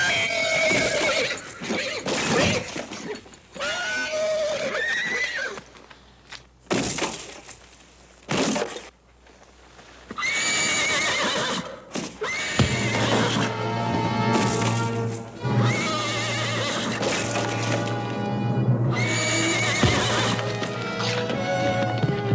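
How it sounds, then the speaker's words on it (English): A horse whinnies loudly several times amid hoofbeats clip-clopping in a tense Western scene, with bursts of commotion, a crash and a steady low hum running underneath. "Watch out that other horse."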